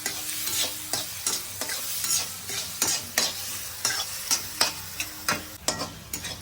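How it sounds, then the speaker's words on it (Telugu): Onions stirred and frying in a pan for chicken and drumstick curry, with steady sizzling and repeated sharp scrapes of the spatula in an irregular rhythm, close and clear with no talking. "ఈ ఉల్లిపాయలు అయితే ఖచ్చితంగా ఎర్రగా వేగాలండి"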